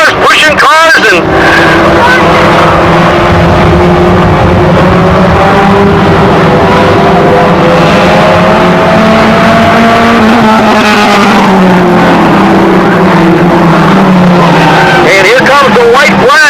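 Race cars on an oval track during a restart, several engines droning and revving continuously as a pack runs close together, with a race announcer talking over the engine noise throughout.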